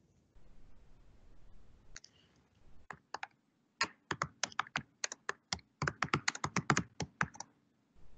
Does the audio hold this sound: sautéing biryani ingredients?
no